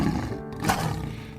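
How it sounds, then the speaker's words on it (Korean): A lion roars loudly and close, one sustained deep roar swelling in the middle of a dense, rumbling wildlife soundscape on the savanna, with no voices. "잠보도 자신이 초원에서 가장 포악한 사자인 양 한껏 크게 포효했다."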